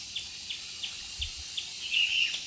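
A red-whiskered bulbul from a breeding pair kept in captivity gives short, faint chirping calls that repeat in a steady rhythm about every third of a second to half second, ending in a slightly longer, brighter trill.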